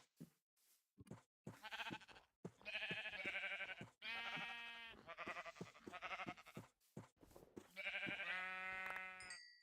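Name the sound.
sheep bleating in the video game Minecraft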